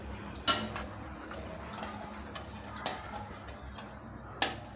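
A spoon stirs rice and rock salt together in a pot for baby corn biryani, giving faint scraping and clinking taps against the pot's side, quiet and close, with a few sharper knocks.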